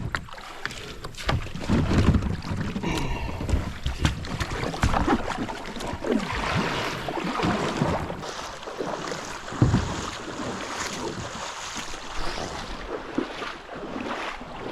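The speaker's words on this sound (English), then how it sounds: "I paddled around the bend and hit another shallow spot." Paddle strokes and splashing water as a small boat is paddled up a shallow river, steady close wash and dipping sounds over about fifteen seconds with no talking.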